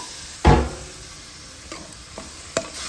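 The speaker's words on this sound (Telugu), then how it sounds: "ఇప్పుడు ఈ కూర కూడా మంచిగా ఫ్రై అయ్యిందండి ఏంటది మన ఆనియన్స్ పేస్ట్ అంతా ఫ్రై అయ్యింది" An onion paste egg curry fries in a pan, with one loud scrape of a spoon followed by softer stirring knocks over a faint sizzle and no voices.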